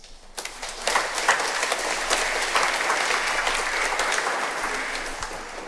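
A congregation at a Catholic Mass bursts into applause, dense steady clapping that fills the space for several seconds without letting up.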